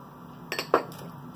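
Elderberries tipped into a pot of water give a few quick, light clinks and rattles against the pot, a brief soft cluster close by with no talking.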